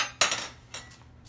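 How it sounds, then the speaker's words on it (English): A lid set onto a pot of boiling rice gives a sharp metallic clink followed by a lighter second clatter, close and fairly loud with no talking. "So my idea of cooking the rice is just to put lid on."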